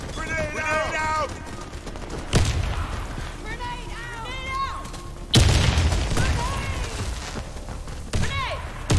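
Sharp booms of a grenade blast and gunfire hit in a video game match, three loud bursts spread across the stretch, with chirpy tonal game sounds and voice callouts in between.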